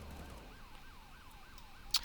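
A game ambulance siren in Police Sim NYC wails in a steady rising-and-falling cycle, faint and distant over a low background hum, with a brief sharp click near the end.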